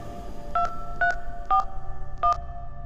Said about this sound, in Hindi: आखिरी कमरे में जाकर लैंडलाइन से मिंटू को फ़ोन लगाने लगे